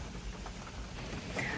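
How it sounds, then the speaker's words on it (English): Steady rain falls on a parked car, a dense close patter drumming on the roof and glass, with wind starting to pick up outside. "I'm sitting in the car watching the rain and listening to the wind start to kick up"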